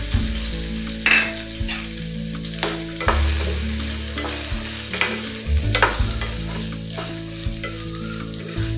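Drumstick-leaf chutney ingredients with coconut sautéing in a pan, with steady loud sizzling and frying under repeated scraping stirs throughout, no talk.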